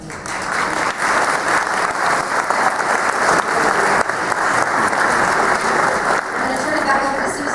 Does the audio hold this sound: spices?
no